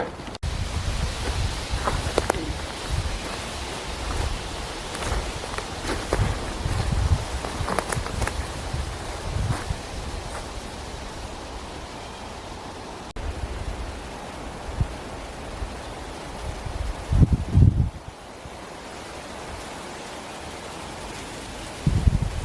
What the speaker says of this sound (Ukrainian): Пройшло буквально півгодини, почав дуть вже вітер.